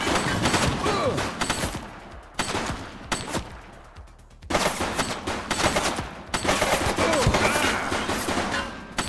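Gunfire in the video game The Precinct, with dense rapid volleys of loud shots that come in several bursts and leave short quieter gaps between them.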